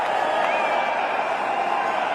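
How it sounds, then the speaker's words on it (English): A cricket stadium crowd roars steadily, cheering a boundary during an India versus Australia match, a dense, continuous wash of noise from a large audience. "The crowd finally getting into it."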